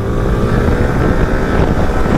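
A motorcycle's exhaust roars through its rear silencer, a loud, continuous low engine drone with wind rush over the microphone, sounding close and unbroken.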